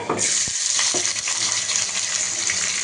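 Oil heating and sizzling in a hot pan for chicken gravy, a loud, steady hiss from close by with a few clinks and knocks near the start.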